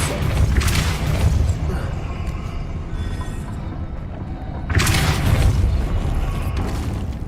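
Depulso force-push spell blasts in the Hogwarts Legacy video game, two loud booming bursts with a rumbling crash, the first at the start and the second just before the five-second mark, with game ambience between them.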